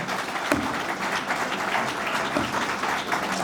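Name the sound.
audience clapping after a speech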